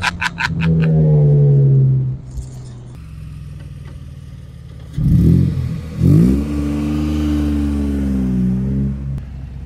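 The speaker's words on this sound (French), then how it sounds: "Et ça déménage quand on accélère." A metallic night-blue Morgan Roadster 3.7 V6 sports car revs hard in loud, rising bursts, drops back to a rumbling idle, then surges again; the sound is close and loud.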